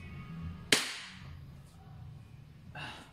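A WE Glock 34 Gen 3 airsoft gas blowback pistol fires a single sharp, loud crack up close, followed by a short decaying tail and quieter handling noises afterward.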